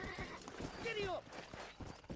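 A horse in the Red Dead Redemption video game whinnies in a short rising-falling call over clip-clopping hooves, with a voice shouting a brief command nearby.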